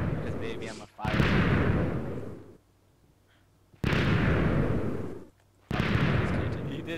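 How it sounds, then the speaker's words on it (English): Minecraft TNT blocks go off in big booming bursts from a huge mass of TNT, two long rumbling blasts that each fade out over a couple of seconds before the next begins, loud and alone. "It's still blowing up"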